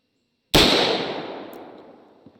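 A single loud AR-15 rifle shot fired outdoors cracks sharply at once, then a long rumbling echo fades away over about two seconds.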